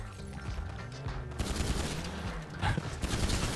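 Dense automatic gunfire in a video game rattles continuously, growing louder and busier partway through and staying close and heavy to the end.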